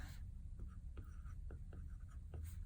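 Handwriting on a cake and cookie planner consultation pad, a few faint, short scratchy strokes at an uneven pace in a quiet room.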